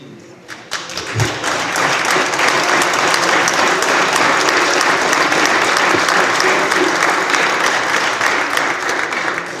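Sustained audience applause at a 2014 city State of the City address: many hands clapping in a full, even roar that swells after a soft start and holds for nearly ten seconds.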